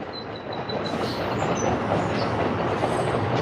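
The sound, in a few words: train passing by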